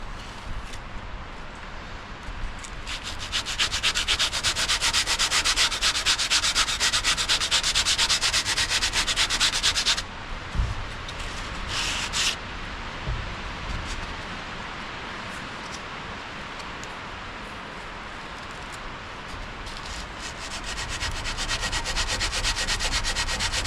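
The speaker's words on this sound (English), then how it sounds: "Just going to sand this real quick." Sanding the gunwales and chines of a canoe, a steady close abrasive rubbing that runs loud for about seven seconds, breaks off, then returns in shorter and quieter strokes with a few faint knocks between them.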